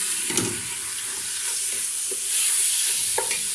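Chorba ingredients are stirred in a hot pot, a steady close sizzle and frying hiss with occasional scraping stirs, no voices.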